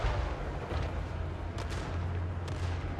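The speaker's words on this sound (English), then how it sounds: "He's taking big cannon hits" Heavy cannon artillery booms in a fantasy battle from Total War: Warhammer III, a dense, continuous rumble of distant gunfire with a couple of sharper impacts standing out.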